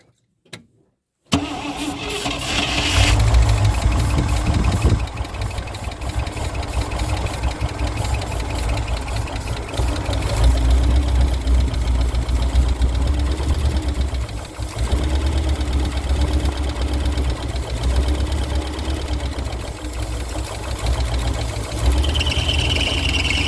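After a moment of silence, a Flatfender Jeep engine cranks and catches on a cold start sprayed with ether, then keeps running with a rough, knocking idle for about twenty seconds.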